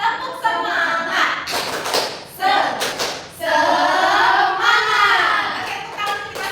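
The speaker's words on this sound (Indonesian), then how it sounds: "Oke, kita hitungan 3 bareng-bareng ya, tepuk semangat." A fifth-grade elementary school class performs a rhythmic spirit clap, sharp sets of hand claps in a patterned beat mixed with the children chanting along together in unison.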